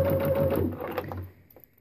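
A sewing machine stitches a fabric owl pot holder in a short, fast burst of rhythmic whirring and needle clatter. It runs close up for about a second, then stops and leaves near silence.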